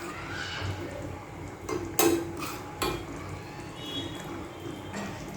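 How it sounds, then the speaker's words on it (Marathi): A lid set down on a pan of egg curry simmering in a dark masala gravy, heard as two distinct metallic clanks over a quiet bubbling, stirring background. "झाकण ठेवते म्हणजे हे उडणार नाही"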